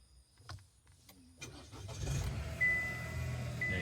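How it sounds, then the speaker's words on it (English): A 2023 Chevy Trailblazer engine turns over after a push-button start, with faint clicks followed by the engine catching and settling into a steady idle, moderately close. "There you go, the car has started."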